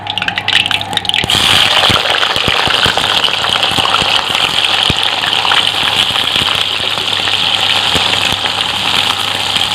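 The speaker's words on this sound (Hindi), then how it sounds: "अब हम करेले डाल रहे हैं।" Bitter gourd pieces go into a hot pan while cooking with onions, setting off a loud, close, continuous sizzle and hiss that bursts in after a quieter first second and crackles on steadily to the end.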